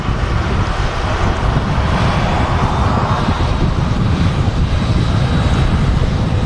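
A Jet2 Boeing 737 without winglets moves past at Manchester Airport, a steady loud engine roar mixed with heavy wind buffeting on the microphone throughout.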